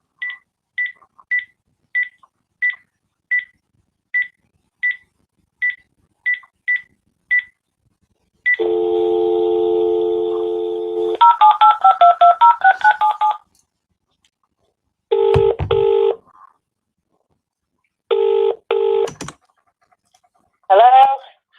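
Telephone dialing and ringing for a phone call: a run of about ten short even keypad beeps, then a long steady tone, warbling electronic notes, and a few separate ringing bursts with gaps between them, loud and clear.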